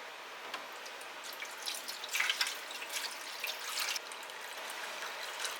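Water is poured into a hydroponic herb-growing system, producing a light, irregular trickle and splashing that swells briefly in the middle and then tapers off, fairly quiet.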